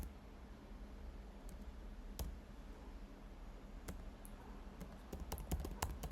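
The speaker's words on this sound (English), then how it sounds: "Let's write constant name is equal to Jasmine." Code is typed on a computer keyboard in a sparse run of faint, close keystroke clicks, speeding into a quicker cluster near the end over a soft hum.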